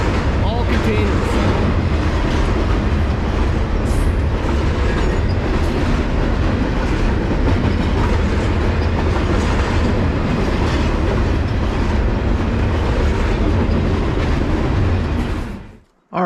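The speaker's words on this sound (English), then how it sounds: "Hopefully you enjoyed the distraction with the Canadian Pacific train." Canadian Pacific intermodal container freight train passing close by in a loud, steady roar of rumbling wheels and clickety-clack on the rails, cutting off abruptly at the end.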